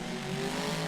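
Monster truck engine in the Rigs of Rods driving game, a loud steady roaring drone with a rough low rumble that holds without a break across the short moment, with no voices.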